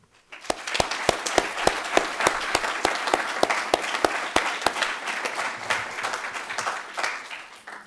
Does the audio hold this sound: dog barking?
no